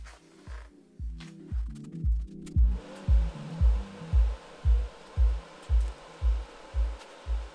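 TIG welding plug welds on a steel fabrication table, a steady rhythmic low pulsing at roughly two beats per second, joined partway through by a constant broadband hiss, close and fairly loud.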